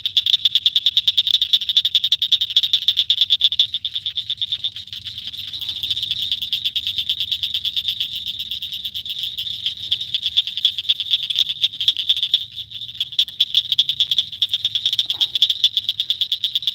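A dense, loud chorus of frogs croaks steadily at night near the water while microfishing, a continuous pulsing trill with faint low rumble beneath.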